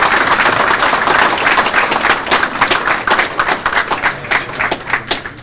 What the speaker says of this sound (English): why don't we give the players a round of applause for everything?